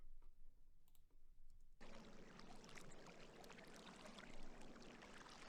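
Atmospheric water textures from the Tundra Atmos sampled instrument come in after a near-silent opening of faint clicks, then a soft, continuous rushing wash that keeps going to the end.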